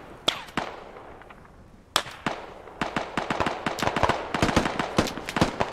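Bursts of rifle fire from a squad aimed at a second-story window in the military shooter Squad: a few separate sharp shots, a short pause, then a dense, steady volley of cracking gunfire that runs on to the end.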